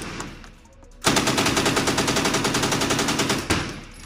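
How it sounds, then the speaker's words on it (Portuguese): Rapid full-auto gunfire from an open-bolt machine gun, a loud sustained burst of closely spaced shots lasting over two seconds, then a brief pause and another short burst. "Experiência totalmente diferente atirar uma arma full auto"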